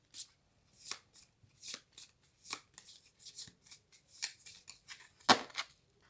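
Tarot de Marseille cards are cut and shuffled by hand, a series of crisp close riffling and slapping bursts in an uneven rhythm, ending in one sharp louder snap, with no talk.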